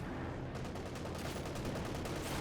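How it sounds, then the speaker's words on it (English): A Company of Heroes 2 battle: a bazooka team fires on a Panzer IV tank amid dense, continuous rattling gunfire and blasts, loud and unbroken throughout. "We have a rear echelon with a bazooka team opening fire on the Panzer IV"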